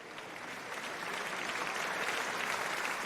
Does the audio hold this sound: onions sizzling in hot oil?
no